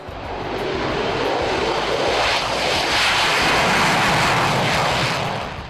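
A loud, steady roar of a fighter jet engine, broad and rushing, swelling slightly in the middle and holding for several seconds with no voices.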